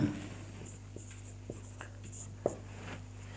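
Chalk writing on a classroom board during a Sanskrit grammar lesson gives a few sparse, crisp taps and short scrapes, close and fairly quiet over a constant low hum.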